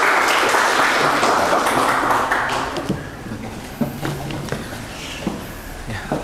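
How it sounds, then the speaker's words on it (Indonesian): An audience at a talk applauds with loud, dense clapping that holds for about three seconds and then thins into scattered claps, taps and faint room noise. "Boleh tepuk tangannya teman-teman semua."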